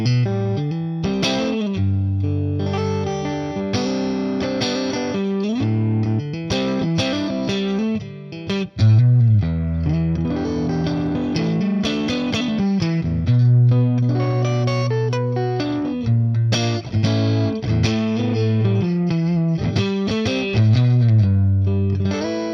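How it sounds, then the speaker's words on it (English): A Fender Stratocaster electric guitar, plugged straight into an amplifier, runs through a continuous lively passage of chords and melodic licks with a slightly driven, ringing tone and no talking. "this is what it sounds like on the classic Fender Stratocaster"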